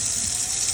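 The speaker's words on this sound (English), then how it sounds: "can fill up your pressure cooker with water right out the tap" Tap water running steadily into a pressure cooker being filled for making agar plates, a continuous close hiss and splash with no break over the short stretch.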